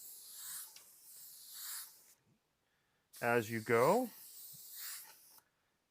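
Airbrush spraying paint in looping motions to create ripple effects, two soft hissing bursts separated by a pause, with a person speaking over the second burst.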